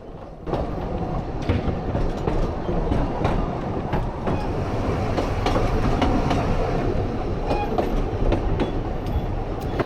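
A steam train rolls along narrow-gauge tracks with a steady rumble and rhythmic clickety-clack of wheels, continuous and fairly loud throughout.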